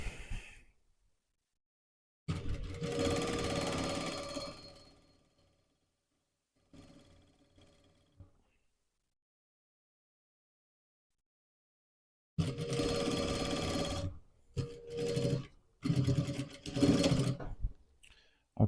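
A sewing machine stitches the elastic waistband of tracksuit pants in separate loud whirring bursts, a long run, a short one, then several quick stop-start spurts between stretches of silence.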